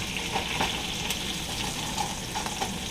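Pork tenderloin searing in a pan in its juices, a continuous loud close sizzle with bubbling and occasional soft stirring or shifting sounds, no voices.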